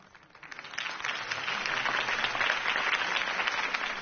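Crowd applause after a campaign speech, a dense sustained wash of clapping that swells in over the first second and holds steady.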